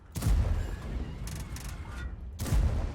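Tank gunfire in a video game, two deep booming cannon shots about two seconds apart, with rumbling battle noise and faint mechanical clatter between them.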